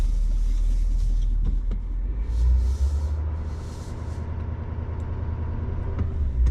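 A truck rolls along a road with a constant low engine rumble and road noise heard from inside the cab, steady throughout with faint higher hissing swells in the middle.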